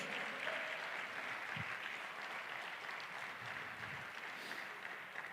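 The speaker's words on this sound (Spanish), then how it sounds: "démosle un aplauso a ese Dios" A congregation at a worship congress applauds in a steady wash of distant, even clapping that continues at moderate level throughout.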